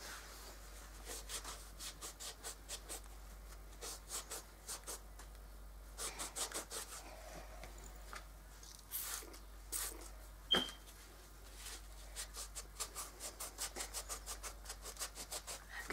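A paper dishcloth rubbing over a DIY gift jar makes a steady series of short, soft scrubbing strokes in a rhythmic run, close and fairly quiet, with one sharper knock partway through.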